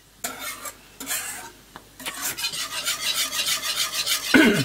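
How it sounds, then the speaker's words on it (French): Homemade cream caramel is stirred in a pan, the utensil making repeated scraping, rasping strokes across the bottom, with brief pauses between bursts and a sharper clink near the end, and no voices. "Et je continue à brasser comme ça."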